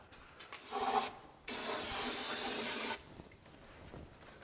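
Brake cleaner aerosol sprays onto the axle of a Ford F-250 in two bursts, a short hiss followed by a longer, steady one of about a second and a half, loud and close, with quiet shop noise between.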